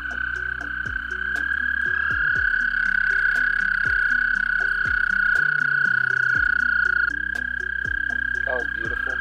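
American toads trill in breeding season, a loud steady high-pitched chorus running unbroken with occasional low splashes and knocks beneath it.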